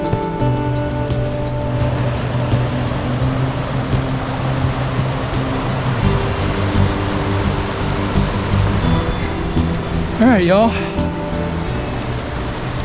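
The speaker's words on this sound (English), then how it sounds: "Made it all the way down to the river, Linville River, here off the Spence Ridge Trail" Linville River rushing below the Spence Ridge Trail in Linville Gorge, North Carolina, a steady broad roar of moving water up close, with someone speaking briefly over it near the end.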